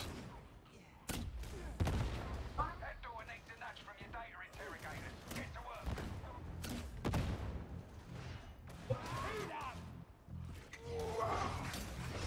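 Gunfire and bursts of combat noise ring out in Warhammer 40,000: Darktide, with sharp shots cracking over a dense, busy battle din, while game voices chatter throughout.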